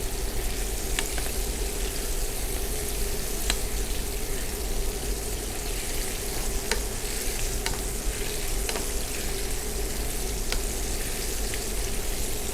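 Large shrimp sizzle steadily in hot fat in a pan, a loud, continuous crackling hiss with occasional sharp pops and light stirring, with no voices.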